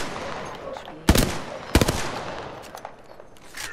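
Gunfire aimed at a dragon in Apex Legends, two sharp loud bursts close together followed by a string of lighter, scattered shots fading off, with faint voices mixed in.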